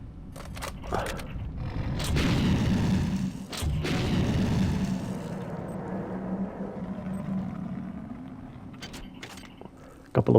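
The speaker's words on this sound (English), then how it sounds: "Couple of grenades to the face solves the problem" Grenades explode in System Shock 2: two heavy, booming blasts close together, each with a rumbling decay, followed by a fading low drone and a few sharp clicks.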